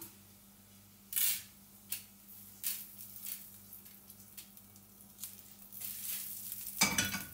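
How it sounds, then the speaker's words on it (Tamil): Ingredients for a coconut-free hotel-style chutney are dry-roasted in a pan, with scattered stirring scrapes and soft sizzles over a low background hum, close by and fairly quiet, and no one talks. "பாருங்க, இது நல்லா செவப்பாக வறுந்துடுது"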